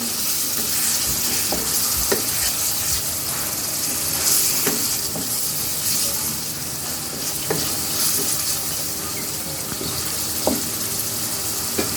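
Mutton sizzles steadily as it is stir-fried with turmeric, coriander powder and salt, a dense continuous frying hiss broken by occasional scrapes and clacks of a spoon against the pan.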